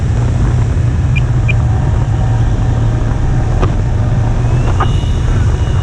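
A radio-controlled Sopwith Camel model plane flies overhead, its engine giving a loud, steady droning buzz that holds throughout, with a few faint chirps above it.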